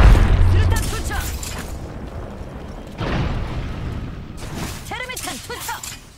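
A frag grenade in Apex Legends detonates with a heavy, close boom at the start, followed by a fading rumble and later duller thuds, while voices speak over the battle.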